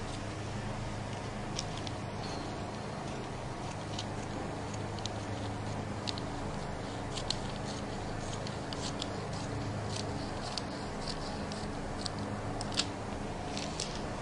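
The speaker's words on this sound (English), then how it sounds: "Now we have cut this side out, so all we need to do is cut out the waist." Scissors snip through fabric while cutting out the waist of an A-line skirt, giving faint, scattered clicks over a steady hum of room noise, with no talking.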